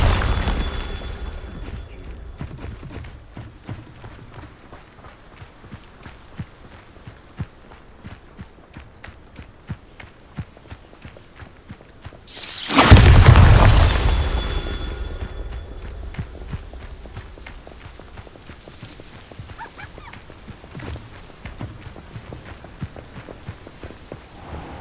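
A Bombarda explosion spell in a video game lands as a single loud, sudden boom midway, surrounded by quieter game sounds and rapid tapping steps.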